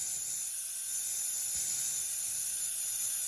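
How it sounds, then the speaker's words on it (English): A Luminess Air makeup airbrush, loaded with a few drops of water for cleaning, gives a steady, fairly loud hiss of air as it bubbles and sprays, with a faint mechanical rattle underneath and no talking. "Let it bubble up and then spray it out."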